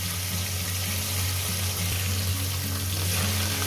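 A whole Lyle's tilapia frying in hot oil gives a steady, dense sizzle with bubbling crackle that holds evenly throughout, close and fairly loud, with no voices.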